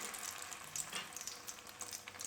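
Shami kebabs, uncoated without egg, frying in lightly heated oil in a home kitchen give off a faint, steady crackling sizzle with scattered tiny pops, close but quiet.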